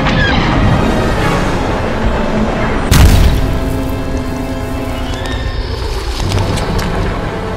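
Starship cannon fire in a LEGO Star Wars battle over Coruscant: a heavy boom lands about three seconds in over a dense, continuous rumble of orchestral music and space-battle noise.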